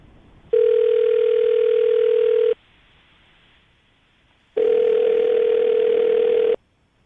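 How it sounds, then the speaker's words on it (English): A telephone ringback tone sounds in two long, steady beeps, each about two seconds, separated by a two-second silence, clear and alone. "We're going to call him right now, see if we can get him on the phone"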